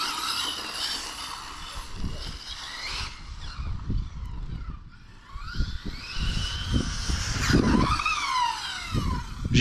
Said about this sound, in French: Le but c'est quand même de vous filmer les caisses qui roulent.